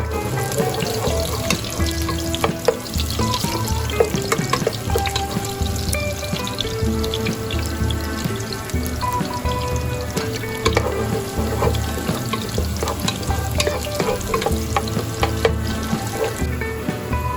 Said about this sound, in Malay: Tumis bawang merah dan bawang putih yang kita mayang halus tadi sehingga kekuningan dan naik bau.